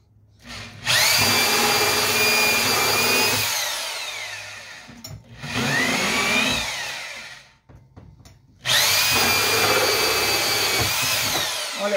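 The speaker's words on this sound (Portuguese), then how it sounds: "Vou estar fazendo um furo agora, mostrando para vocês, eu tenho uma furadeira potente" Powerful electric drill boring holes in a disposable plastic jug, heard as three loud, close whining bursts, each rising as the motor spins up and settling into a steady buzz, with short pauses between them.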